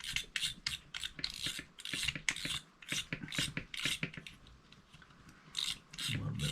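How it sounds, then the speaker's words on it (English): A nut spun off a Zebco Quantum Blue Runner 50 fishing reel gives a rapid run of ratcheting clicks and rasping mechanical bursts, close and fairly loud, with no talk over it. "We'll spin this nut here"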